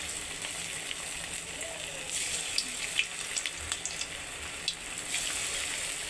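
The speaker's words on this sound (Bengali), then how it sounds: "আমি আজকে নিজের নারকেল পিঠেগুলো সব ফ্রাই করব সর্ষে তেল দিয়ে" Coconut pithe sizzling as they fry in mustard oil, a steady quiet crackle and hiss with small pops scattered through, no talk over it.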